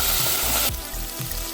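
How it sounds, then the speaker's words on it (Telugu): Ginger garlic paste sizzles in an oiled pan while carrot rice is being cooked, a loud, close, steady hiss of frying broken by a few brief stirring shifts, with no talk. "ఇప్పుడు మనం అల్లం వెల్లుల్లి పేస్ట్ కూడా వేసి పచ్చి వాసన పోయే వరకు వేసుకుందాం"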